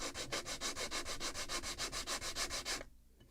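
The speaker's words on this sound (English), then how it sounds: "Where is my favorite piece of wood with sandpaper?" Sandpaper rubbed back and forth over a piece of wood at a model-ship workbench, in a steady rhythm of about a dozen close, even scratchy strokes that stops abruptly near the end.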